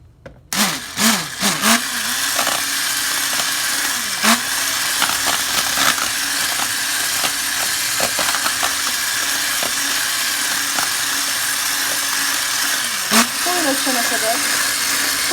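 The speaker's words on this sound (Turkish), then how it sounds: "Mikserle çırpacağım şimdi." An electric hand mixer whisks cake batter steadily and close throughout, with a brief clatter at the start and occasional faint scraping under the motor hum.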